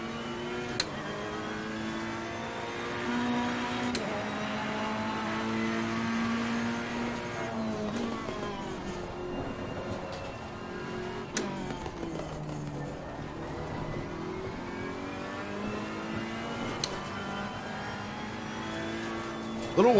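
A GT race car engine roars through hot laps around Misano in Assetto Corsa Competizione, a strong, steady whine that climbs and drops with each gear change and corner, with brief clicks and a faint voice now and then.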